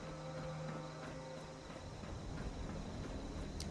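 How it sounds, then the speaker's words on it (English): Crickets and bullfrogs call at night in a post-apocalyptic wasteland video game, a quiet, steady chirring ambience with faint croaks and no talk. "Crickets and bullfrogs."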